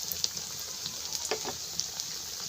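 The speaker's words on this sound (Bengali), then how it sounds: "তো একই নিয়মে আমি সবগুলো বড়া ভেজে নিব।" Corn fritters (bora) made from fresh corn batter frying in hot oil, with a continuous close bright sizzle and occasional pops and small stirring sounds, no talk.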